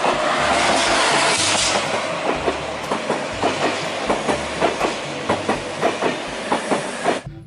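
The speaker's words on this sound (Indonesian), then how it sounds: "ada kereta cepat" A train rushes past nearby with a steady roaring hiss and a rhythmic clickety-clack of wheels over rail joints, ending abruptly.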